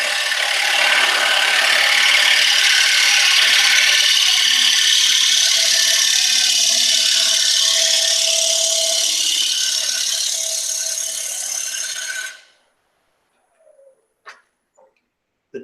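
A sharp chisel pares an uphill cut in wood, giving a long continuous scraping, shaving rasp for about twelve seconds that stops abruptly, followed by a few faint light knocks and taps.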